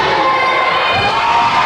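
Indie wrestling crowd at a live match roaring loudly and continuously, a dense wash of cheering and shouting voices from a packed audience, with no single speaker standing out.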